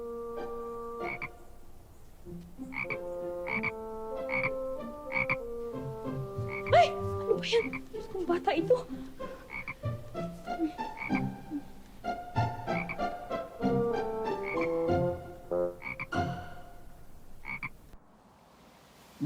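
A frog croaks repeatedly amid a rural Philippine period setting, its calls blending with a melodic background score, while people speak briefly over it.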